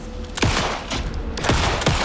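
Rapid gunfire in the video game Alan Wake 2, several sharp loud shots cracking in quick succession with echoing tails over a dense, noisy game soundscape.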